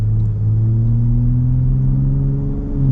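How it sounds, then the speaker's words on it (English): A 2021 Ford F-150 Raptor Gen 3 pickup, its exhaust set to Baja mode, pulls away on a road under moderate throttle: a deep, steady engine rumble that rises gradually in pitch, loud and close, with no talking. "Now we're gonna pop it into the Baja mode for the exhaust, because you know what? We want all the noise in the world."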